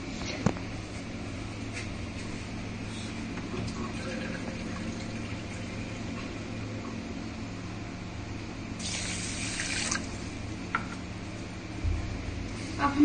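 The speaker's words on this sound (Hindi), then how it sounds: "इसमें एक कप पानी ऐड करेंगे।" Water poured from a cup onto sugar in a pan to start a syrup for an Indian sweet, giving a steady splashing, hissing pour that runs for several seconds with a brief brighter gush near the end.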